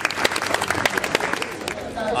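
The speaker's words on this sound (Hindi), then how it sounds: "सब जोरदार तालियां, रामदेव जैसी तालियां लगनी चाहिए" Loud applause from an audience at a senior citizens' New Year gathering held by a retired persons' welfare association in Kirti Nagar, with dense overlapping claps under steady crowd noise for a couple of seconds.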